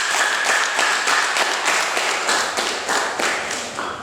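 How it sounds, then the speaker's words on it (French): Applause at a prize ceremony for award-winning baccalaureate students in Dassa-Zoumè, loud, dense clapping from a close crowd, sustained and steady for the whole stretch. "Il faut les acclamer."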